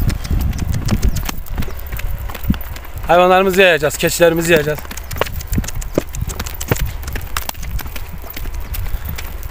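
A donkey's hooves clip-clop steadily along a rural road in a close, irregular clatter, while someone talks over it and an animal cries briefly in the middle.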